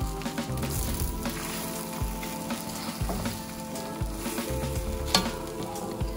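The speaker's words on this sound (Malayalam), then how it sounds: "ഞാനത് പാനിലേക്ക് ഒഴിച്ചു കൊടുക്കാം അപ്പൊ നമുക്ക് ഈ എഗ് ഒന്ന് സ്ക്രാമ്പിൾ ചെയ്തെടുക്കാം" Beaten, salted eggs hit a hot pan and get scrambled, giving a loud, steady sizzle with stirring scrapes and pulses throughout, no voices.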